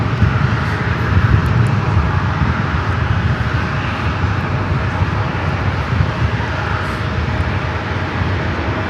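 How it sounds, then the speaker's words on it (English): Embraer E190 private jet passing at LAX, a continuous loud engine roar holding level throughout, broad and rushing, with no talk over it. "It's Embraer Lineage 1000. Doesn't show any information on flight radar. I think it's just an E190 private."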